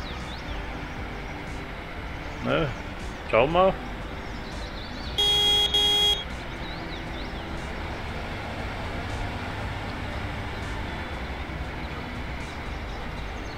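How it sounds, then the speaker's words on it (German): Forage harvester horn in the Cattle and Crops farming game during a corn harvest: two short toots followed by a longer blast over a steady engine drone, with a brief spoken remark. "er hupt gerade, weil er anscheinend gleich voll ist"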